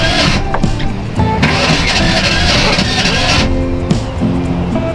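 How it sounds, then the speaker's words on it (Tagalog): A cold engine on a river boat cranking repeatedly without catching, with harsh mechanical bursts broken by short pauses, loud and close throughout. "Ayaw mag-start guys. Malamig ang makina."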